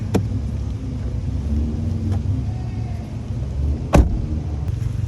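A steady low engine rumble from a 2011 Volkswagen Golf TSI idling nearby in a workshop, with a couple of brief clicks or knocks from an engine noise cutting through.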